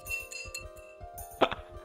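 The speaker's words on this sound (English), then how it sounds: "That's the sound of my glass clinking with yours." Drinking glasses clink together in a toast, one bright, sharp clink followed by a quick second ring near the end, heard over a steady rhythmic background beat.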